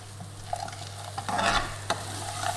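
Methi leaves cooking in a pan for a restaurant-style chicken Madras: a soft, steady sizzle under a low hum, with a few scraping stirs near the middle.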